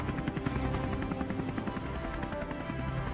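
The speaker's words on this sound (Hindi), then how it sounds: "छोटू हेलीकॉप्टर को वहीं हवा में रोक देता है।" A cartoon ultra fighter helicopter hovers in mid-air near a tunnel, giving a steady, dense rotor and engine drone that stays loud and even throughout with no pauses.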